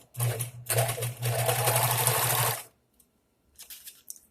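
A sewing machine stitches baby clothes in quick bursts, a few short whirring runs then a longer one, followed by a pause and light clicks and handling nearby.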